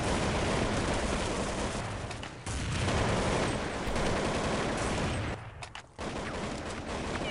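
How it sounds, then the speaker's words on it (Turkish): Sustained assault-rifle fire from Counter-Strike 1.6, a loud, dense barrage of rapid shots broken by two brief pauses, with no talking. "Aramalı tüfek mi sıkıyorum,"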